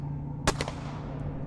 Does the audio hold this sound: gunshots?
yes